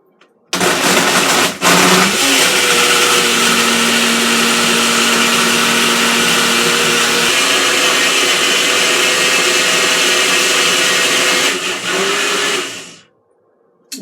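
A HadinEEon countertop blender runs steadily at full speed for about twelve seconds, a loud continuous motor whir with a brief pitch shift near the start, then cuts off.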